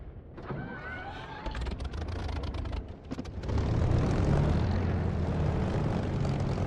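Simulated piston aircraft engine in the DCS flight simulator cranks over with sputtering bursts, then catches and settles into a loud, steady propeller-driven roar.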